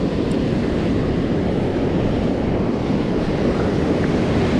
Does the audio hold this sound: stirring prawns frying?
no